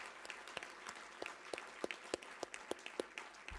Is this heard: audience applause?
yes